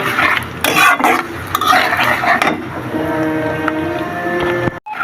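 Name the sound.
onions frying in oil in a wok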